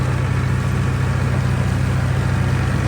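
A tractor engine runs steadily at a constant idle-like pace, giving a loud, close, continuous low throbbing drone with no change in speed and no voices.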